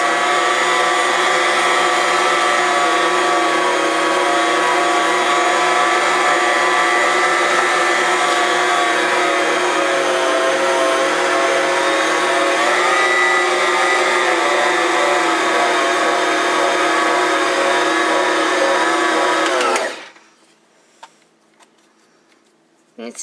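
A Bosch stand mixer kneading a heavy holiday bread dough with lots of flour, a loud steady motor whine and churning hum running continuously for about twenty seconds before cutting off abruptly into near quiet.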